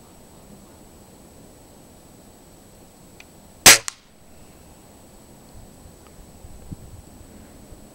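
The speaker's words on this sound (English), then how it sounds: "First shot." Single sharp crack of a .22 caliber Beeman dual-caliber air rifle firing, loud and close, followed by a brief faint echo, with quiet ambient background before and after.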